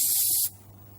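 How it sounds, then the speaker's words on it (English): Cooling spray from an aerosol can aimed at computer parts, a loud, sharp hiss lasting about half a second before cutting off to a faint low hum. "Cooling spray here."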